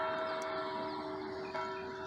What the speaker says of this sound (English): The 7 o'clock bell. Church bell.